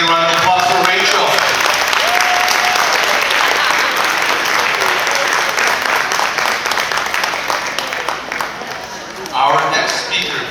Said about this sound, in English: once again, round of applause for Rachel